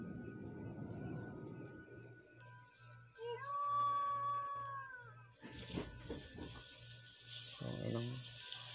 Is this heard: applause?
no